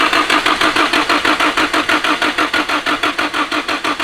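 A Nissan S15 Silvia with a swapped VVL engine runs just after its first start-up, chugging in a steady, fast, loud pulsing rhythm up close with nothing else over it.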